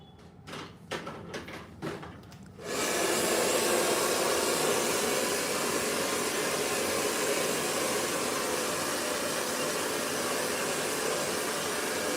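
A blow dryer roars on steadily after a few soft clicks and rustles, a loud continuous whoosh close by while hair is being straightened, with no speech.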